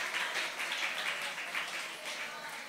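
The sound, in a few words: church congregation applause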